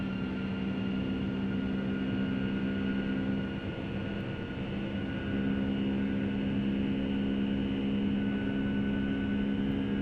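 Jet airliner engines on a Boeing 757-300 in a flight simulator game roar steadily at takeoff thrust, a loud sustained drone with a constant whine. The rumble swells slightly midway and holds without any voices.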